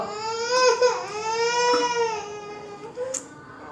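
A young child cries and whimpers up close, with wavering, drawn-out sobbing wails that rise and fall, alone without talk, in a Tamil family setting.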